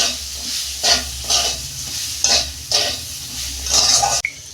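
Cauliflower frying in a pan for a mixed-vegetable chorchori, with loud, steady sizzling broken by repeated scraping stirs at a roughly regular pace, close up and without talk.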